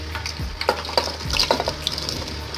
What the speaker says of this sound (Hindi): कुकिंग ऑयल हमारा अच्छी तरह से गर्म हो चुका है। अब हम डालेंगे इसमें प्याज